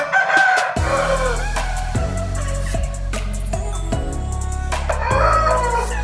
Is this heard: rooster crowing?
yes